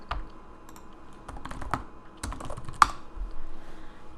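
Fingers type on a computer keyboard in a quiet room, producing soft, irregular key clicks in short bursts with brief pauses and one sharper tap partway through.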